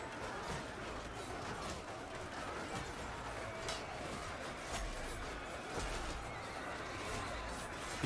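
A horse whinnies in the medieval battle game Mount & Blade II: Bannerlord, repeated neighs over a dense, steady din of battle noise with hoof clatter and no talk.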